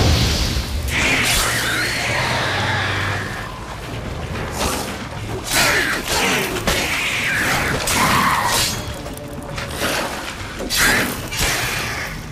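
A monster lair in The Witcher 3 being blown up: bursts of crashing, shattering debris and whooshing blasts layered with game ambience, loud and close, with no voices.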